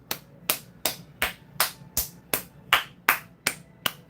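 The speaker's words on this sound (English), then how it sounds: "Round of applause!" A steady round of hand clapping from a small group, sharp regular claps about every third of a second, close and clear with no talk over it.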